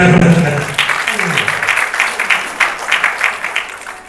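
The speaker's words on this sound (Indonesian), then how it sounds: "boleh tepuk tangan, boleh ya" An audience at a Rohis school talk breaks into applause, a loud, even wash of many hands clapping that follows a brief voice at the start and keeps going without pause.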